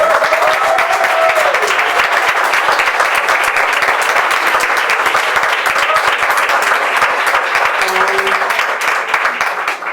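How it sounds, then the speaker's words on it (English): Audience at a memorial for actor Louis Gossett Jr. breaks into sustained, loud applause, dense steady clapping filling the room for the full ten seconds with no talk over it. "So shall we give a warm hand of applause to our wonderful brother?"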